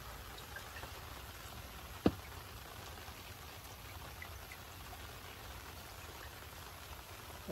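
Steady rain falling outdoors during a fishing trip, an even wash of hiss and patter with a single sharp tap partway through, no voices.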